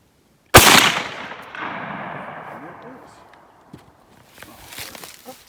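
A single loud 16 gauge shotgun blast of extended range buckshot at an outdoor range, a sharp close report followed by a fading echo, then faint shuffling and movement.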